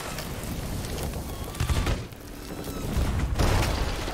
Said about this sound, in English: Cannon fire, fire.